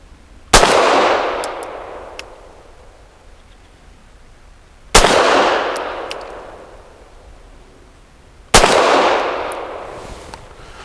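A Walther PD380 pistol fires Blazer aluminum case 95 grain rounds: three single sharp, loud shots spaced a few seconds apart, each followed by a long fading echo as if outdoors.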